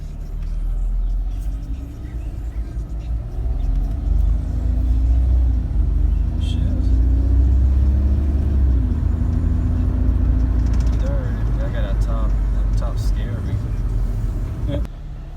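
A flood-damaged 2004 Mercedes SLK 320 drives along, its engine rumbling and rising in pitch through gear changes, heard from inside the car with someone talking over it.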